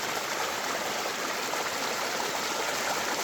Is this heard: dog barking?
no